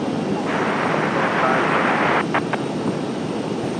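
A TBM single-engine turboprop taxis at RDU airport, its steady broadband engine roar holding close and loud the whole time without dropping away.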